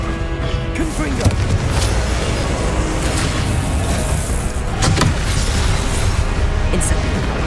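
Confringo spell blasts in the game Hogwarts Legacy: loud booming, crashing impacts over continuous game noise, with sharp bursts near the start and middle and a voice casting spells.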